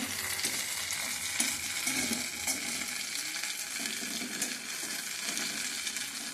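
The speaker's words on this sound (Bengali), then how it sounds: "হালকা ফ্লেম দিয়েই ভাজছি এটা" Food frying over a low flame in a pan sizzles steadily, with scraping and stirring strokes close by throughout and no voices.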